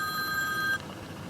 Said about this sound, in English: I get more phone calls.